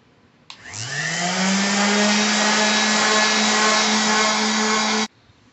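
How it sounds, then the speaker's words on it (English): An electric sander with 180 grit paper works the edge of a hardwood cutting board, spinning up with a rising whine into a loud, steady buzzing drone for about four and a half seconds before cutting off abruptly. "now I'll sand that flat and it'll be a good edge on it. We're going to do some 180 grit."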